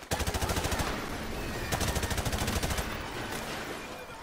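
Sustained automatic gunfire from an enemy blind-firing in Call of Duty Modern Warfare Remastered, a fast, steady stream of loud, evenly spaced shots running nearly the whole time with a brief lull midway.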